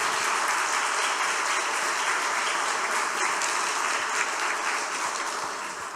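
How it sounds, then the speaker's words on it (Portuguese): A church congregation applauds during worship: sustained, dense clapping from many hands, even and loud throughout, tapering slightly at the end. "Dá uma salva de palmas para Ele."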